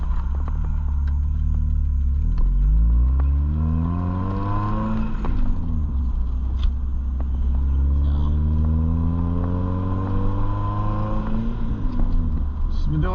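A manual-transmission car on a short Sunday cruise toward the beach, its engine droning steadily inside the cabin, revs climbing and dropping through gear changes in repeated sweeps, with a constant road rumble underneath.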